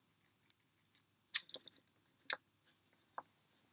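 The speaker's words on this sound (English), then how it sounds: "I'm going to cut a little channel in here" Several crisp snips and clicks of a blade cutting a small channel into a piece of tape for a homemade microfluidic chip, close and quiet, in separate bursts with short pauses between them and no talking.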